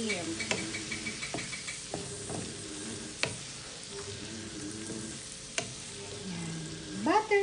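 Shrimp sizzles in a pan of butter, onion and garlic, a steady frying hiss broken by sharp clinks and scrapes of a stirring utensil.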